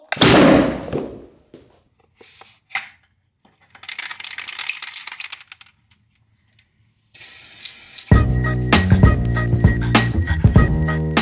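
A homemade plywood potato gun is charged with a spray hiss and fired, giving short bursts of spraying hiss, a sharp pop and a loud rushing blast near the end, close and loud with no talk.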